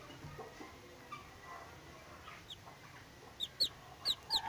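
Cochin chick and broody hen clucking softly, with a few sharp, close peeps rising near the end over a quiet background.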